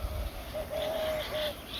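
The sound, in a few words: dove calling in village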